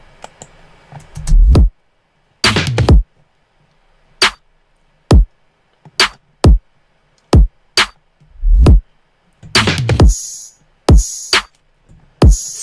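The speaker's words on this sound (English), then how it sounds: "So this is the entire drum section as a whole." Punchy electronic drum hits, deep kicks and sharp snare cracks, spaced out in a choppy pattern with silent gaps between them.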